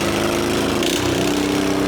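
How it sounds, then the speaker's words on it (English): A mid-tine garden tiller's small engine runs loud and close right after starting, a steady droning chug with a fixed buzzing tone and no pauses. "I'm gonna start this on, choke."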